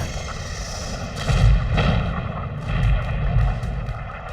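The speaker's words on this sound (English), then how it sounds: "Shells and projectiles burst everywhere about us, with a force that lifted us off our feet." Artillery shells and projectiles from World War One howitzers, mortars and field guns bursting on a battlefield, with loud, low, rumbling booms rolling over a continuous heavy roar, several deep impacts swelling and fading.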